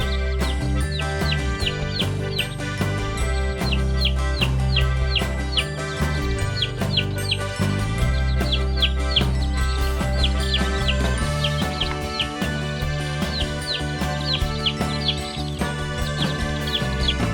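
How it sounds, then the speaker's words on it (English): A farm chick chirps in a steady stream of quick, high peeps, repeating throughout at close range over a constant soft background. "Chick."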